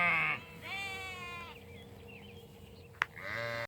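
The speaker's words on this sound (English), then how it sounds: "We're moving the sheep." Ewes and lambs bleating while being moved to new pasture, several overlapping calls of differing pitch, some long and wavering, close and clear over a quiet outdoor background.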